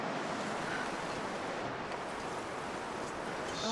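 Strong, steady wind roars through a snowy wilderness in the survival game The Long Dark, a dense broadband rush that holds loud and unbroken for several seconds with no voices.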